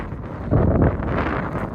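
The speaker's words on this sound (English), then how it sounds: "Windy out here." Strong wind buffeting a microphone outdoors, a steady low roar with a gust swelling midway.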